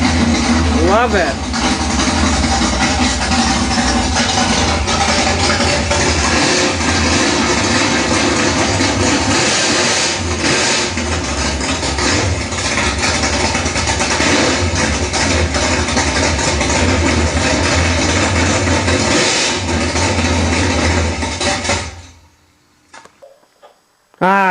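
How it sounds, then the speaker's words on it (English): A diecast Liberty Classics Chevy small block model engine running as a toy sound effect, a loud steady engine drone holding for about twenty seconds before cutting off abruptly, followed by brief quiet clicks. "there's nothing like the sound of a Chevy engine"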